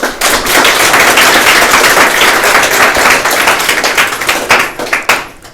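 Seminar audience applauding in a hall, a dense, steady burst of many hands clapping that thins into scattered claps near the end, with no talk over it.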